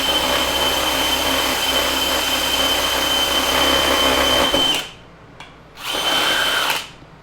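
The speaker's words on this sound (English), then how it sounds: "All right, so here's the Dewalt with the 5/16 bit." A Dewalt DCD996 brushless drill bores with a 5/16 bit, a loud steady whining drone for several seconds that then cuts out, followed by one short burst of drilling before it stops again.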